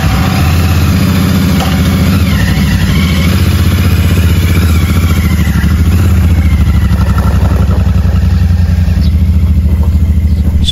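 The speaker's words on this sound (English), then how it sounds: "I'm just going to go up and down the bumpy lane outside of my house" A Meteor 650 motorcycle riding along a bumpy lane, its engine a loud, steady, close thumping rumble with light rattling and clatter from the bumps throughout.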